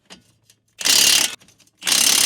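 A ratchet wrench loosens the strut mounting bolts on a 2006–2012 Toyota RAV4 4WD, two loud bursts of fast clicking separated by a short pause, close and with no talk.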